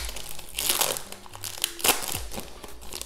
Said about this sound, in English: let's open our bonus pack